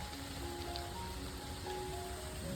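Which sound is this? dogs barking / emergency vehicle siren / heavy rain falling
heavy rain falling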